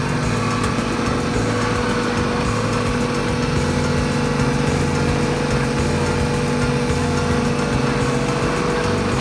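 Four very old coffee grinding machines run together in a grinding room at a traditional Balinese coffee maker, giving a steady, dense mechanical hum and whirr that holds evenly throughout with no talk.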